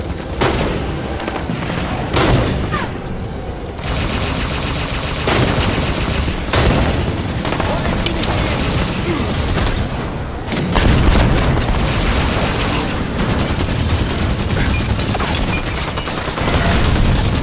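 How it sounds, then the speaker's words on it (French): Dense, loud gunfire and booming grenade explosions from a Halo battle between UNSC and Covenant forces, rolling continuously with repeated heavy blasts and rapid automatic fire, no pauses. "Il lance des grenades."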